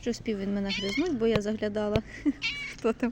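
A stray cat meows close by in short, rising cries, mixed with someone talking and laughing over it.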